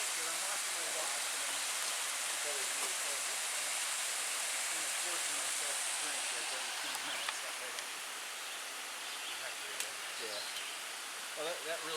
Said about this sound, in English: Got another neat little waterfall.